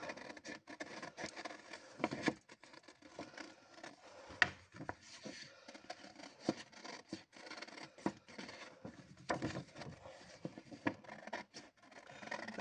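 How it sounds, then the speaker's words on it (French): Large scissors cut paper at random for a junk journal, making close crisp snips and rustles in irregular bursts, with paper shuffling between cuts. "Vous prenez un grand ciseau et vous venez bêtement faire comme ceci"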